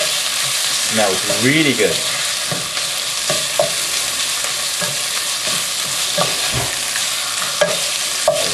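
Beef sears and stir-fries with ginger and garlic in a hot pan, loud steady sizzling with repeated scraping and tossing strokes, while a voice briefly comments over it.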